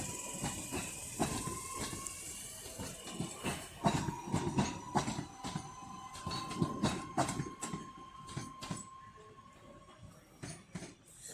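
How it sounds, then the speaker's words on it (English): Northern's Class 323 electric unit 323202 pulls out of Crewe station toward Manchester Piccadilly, a steady rolling rumble with rhythmic wheel clicks over rail joints and a faint whine, heard from the platform at moderate distance. "now departing is 323202 with a northern service to Manchester Piccadilly via Wilmslow"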